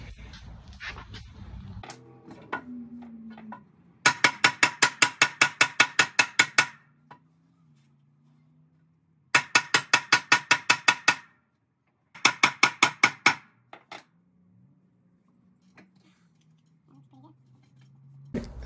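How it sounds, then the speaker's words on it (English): Hammer blows driving a new leaf spring bushing into place on a Chevrolet Silverado truck, in three quick bursts of sharp metallic strikes separated by pauses, close and loud. "Now I'm gonna just get a hammer and do my thing."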